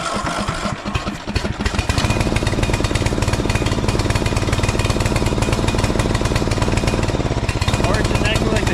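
Small engine that had been backfiring runs close and loud, a rough, rapid steady chugging without pops, continuing for the whole stretch.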